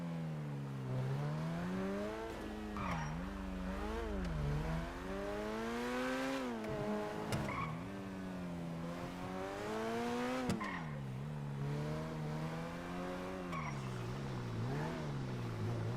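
A car in the video game GTA 5 drives with a looping engine note that rises and falls through gear shifts and revs, with occasional tire squeals and clicks, steady and alone with no talk.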